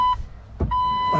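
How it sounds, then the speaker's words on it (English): A Jeep Wrangler TJ's car key reminder buzzer beeps a steady electronic tone on and off, pausing briefly before resuming, with a low thump between the tones. "Oh, even the key buzzer sounds better."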